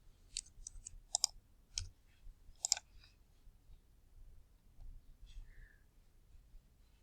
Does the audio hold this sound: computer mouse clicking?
yes